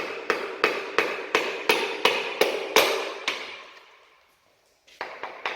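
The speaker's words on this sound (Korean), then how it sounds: "눌러준 상태에서 고무망치 목을 이용해서 누른 상태에서 그대로 천천히 쳐주세요" A rubber mallet taps a piston ring down into an engine in a series of about ten sharp, evenly spaced knocks. The taps pause briefly, then resume with a few more quick strikes, close and clear, with no talking.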